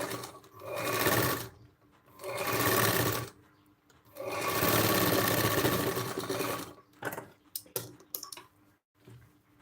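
A sewing machine stitches a blouse in steady whirring runs, stopping and starting between bursts, followed by a few short clicking stitches near the end. Close and clear, with no talking.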